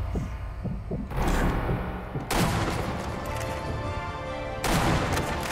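Sniper rifle shots in Sniper Elite V2. Three heavy, booming reports each hit hard and then roll off into a long reverberant tail, spaced a second or two apart and loud, with no talking.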